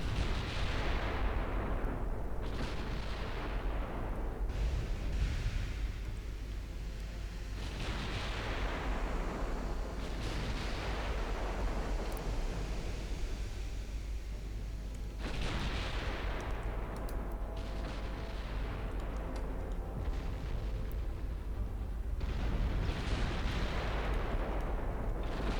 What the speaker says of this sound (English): if you just shoot at them, eventually they will explode